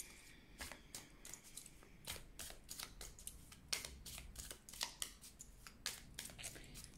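Tarot cards being shuffled and cut by hand, a string of quick papery riffles and snaps at an uneven rhythm, close and fairly quiet.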